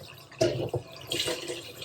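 Water runs from a kitchen tap into a pan so it can soak, with short splashy bursts and a steady nearby flow rising and falling.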